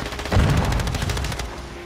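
A shotgun fires in a video game, a rapid series of loud blasts rattling close up and then trailing off, with no voices.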